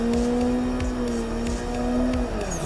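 A drift car in Assetto Corsa holds a loud steady engine note with tire squeal through a slide, then the revs drop sharply near the end as a clutch kick falls short.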